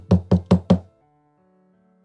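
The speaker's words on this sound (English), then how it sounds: "Puzzled, I knocked on the door." Four firm, evenly spaced knocks strike a bedroom door close by. A soft, faint tone lingers afterward, and then there is a short silence.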